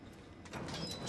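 A door opening in the video game Quantum Break: a brief sliding rumble that swells into a broader hiss over about a second.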